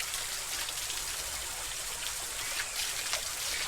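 Stream water rushes at the Meeyan Ella waterfall in Ihala Kotte, Sri Lanka, a steady, even hiss of flowing water that fills the whole moment without pause.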